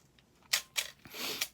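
A Canon AV-1 film camera's aperture ring is turned by hand, giving a few short, close mechanical clicks followed by a longer scraping turn, all quiet and with no talking.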